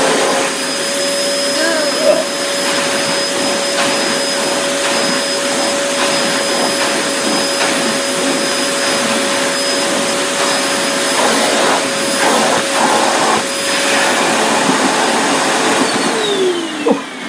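A budget vacuum cleaner with plastic tubes and a brush runs continuously with a steady loud whine and roar, and a voice speaks faintly underneath.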